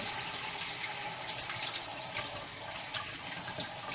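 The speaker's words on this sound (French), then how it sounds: "Si je si je continue à tourner le robinet, à ce moment-là, on commence à avoir un premier éclairage." Water pours steadily from a Homelody LED cascade faucet, a continuous close rushing flow with no voices.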